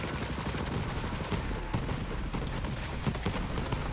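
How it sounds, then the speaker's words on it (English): Submachine gun fire from the video game Borderlands 3: a dense, continuous stream of rapid shots, loud and close, running for the whole stretch with no pause. "Yeah, this SMG is actually good."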